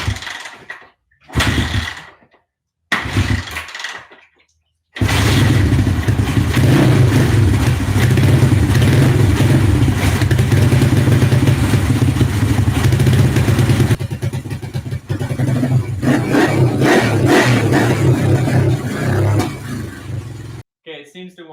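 A Honda CB360 motorcycle that failed to start after winter sputters through several short cranking bursts, then catches and runs loudly and steadily on choke, with the engine note rising and dropping before cutting off.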